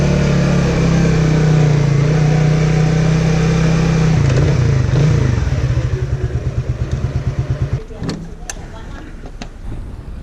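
A 2003 Suzuki FX125 DOHC motorcycle engine runs loud and close while riding, a steady drone that breaks into rapid pulsing around the midpoint, then drops off with a few sharp clatters near the end.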